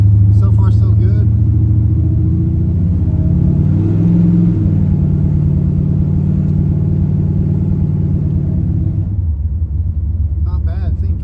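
A Chevrolet Camaro Z/28 on a test drive after ball joint maintenance: a steady, loud low engine rumble with gear-like rises in pitch, heard from inside the car, with a voice talking briefly at the start and end.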